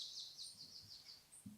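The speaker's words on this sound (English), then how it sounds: "like this one here, which is like a bird song" Faint, high bird-like chirps and tweets recur through a drum and bass production, with soft low thumps underneath.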